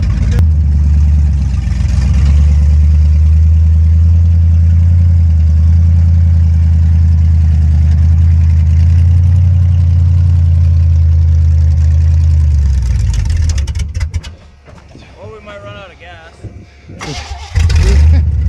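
A Chevrolet Blazer engine on a custom build runs not yet warm, with a loud steady idle and some revving for about thirteen seconds before it drops away to quieter rattles and faint knocks.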